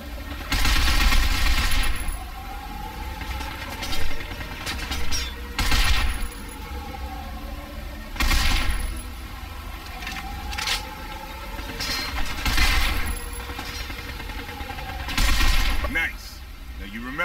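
Repeated bursts of automatic gunfire in Binary Domain, loud volleys every couple of seconds against robot enemies, with metallic clanks and crunchy impacts between shots.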